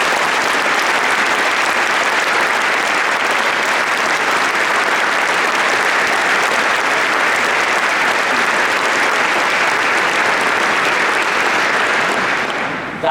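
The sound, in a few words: audience applause at award ceremony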